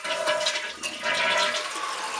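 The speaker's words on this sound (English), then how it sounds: "It's going to flush here for a minute." A household toilet flushes steadily and loudly just after its loose handle is repaired, the rushing water filling the whole span with no talk.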